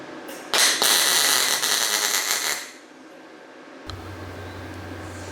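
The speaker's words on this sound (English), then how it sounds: "I ground the welds down a little bit" An angle grinder smooths tack welds on a nut for a mirror on a VW Beetle, giving a loud, harsh grinding whine for about two seconds before spinning down. A low steady hum follows.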